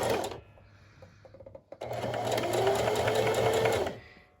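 A sewing machine zigzag-stitches lace and raw edges onto a fabric face mask, running in a steady, fast, close-up buzz for about two seconds after a few brief starts.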